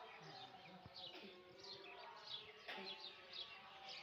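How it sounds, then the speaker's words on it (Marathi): Small birds chirp and tweet outdoors at daybreak, with repeated short calls rising and falling at moderate distance over a steady background hum, while a morning ritual goes on nearby. "आणि पक्ष्यांचा पण आवाज येत असेल."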